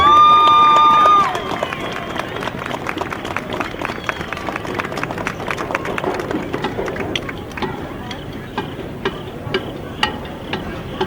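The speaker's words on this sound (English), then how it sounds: "Please give them all a well-deserved round of applause." A crowd at a high school marching band performance applauds with steady clapping after a brief sustained tone, the clapping thinning gradually toward the end.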